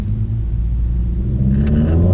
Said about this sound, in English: Let's just take a second here and enjoy this kind of like 3/4 pull.